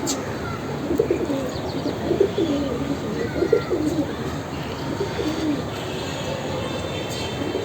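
Several pigeons on a small home farm coo softly in a steady, low murmuring pattern, moderately close, over light background noise without speech.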